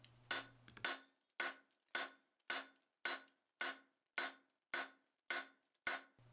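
A blacksmith hammers steel with the peen and cross peen of the hammer, drawing out bar stock: about a dozen evenly spaced, sharp ringing blows, close and loud, with no speech.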